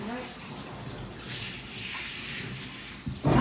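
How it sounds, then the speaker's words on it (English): Water in a bathtub churns and splashes steadily as a dog is bathed, a continuous close wash of sloshing with a louder burst at the end and a person talking over it. "It replicates a splash, but it's really just a dog."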